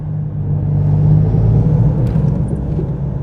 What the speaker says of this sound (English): this Volvo is pretty noisy in here